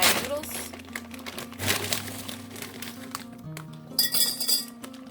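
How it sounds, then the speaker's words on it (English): Crinkling plastic bag of dried noodles being torn and opened by hand, with glassy clinks from a jar nearby, heard beneath steady background music. "So I'm just going to open up my bag of noodles."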